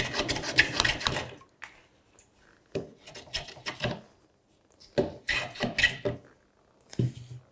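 A rasp files the wood of a serpentine chest of drawers in bursts of coarse scraping strokes, each run of several quick rubs separated by short pauses, close and alone.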